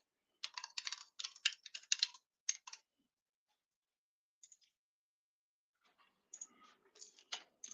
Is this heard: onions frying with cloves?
no